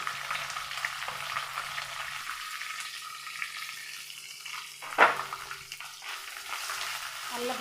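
Dried chillies, onion, ginger and garlic sauté in a pan with a soft, steady sizzle, broken by the scrape of stirring and one sharper clatter midway; no voices.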